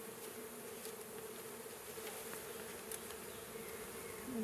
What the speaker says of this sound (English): I'm gonna get as many bees out as I can.